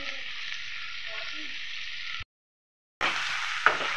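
Onions fry and sizzle in a pan with a steady broadband hiss for about two seconds, then cut to silence before the sizzle resumes, with a single sharp tap near the end.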